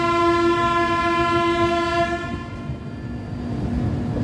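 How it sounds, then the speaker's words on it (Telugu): The Uday Express double-decker train between Visakhapatnam and Vijayawada sounds a loud sustained horn for about two seconds, then its steady running rumble and rattle carry on close by. "నేనైతే డబుల్ డెక్కర్ ట్రైన్లో ఫస్ట్ టైం అయితే ట్రావెల్ చేస్తున్నాను"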